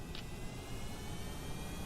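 Steady roar of a plane's jet engine under thrust in Kerbal Space Program, a continuous broadband drone holding level throughout, with no talk.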